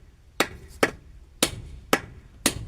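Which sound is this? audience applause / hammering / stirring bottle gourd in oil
hammering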